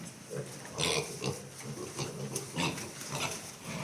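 Piglets grunt and squeal softly in a rapid, overlapping chorus, fairly close, with small snorts and shuffling between the calls.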